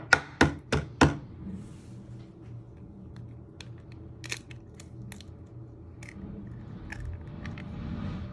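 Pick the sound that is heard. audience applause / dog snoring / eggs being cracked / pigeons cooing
eggs being cracked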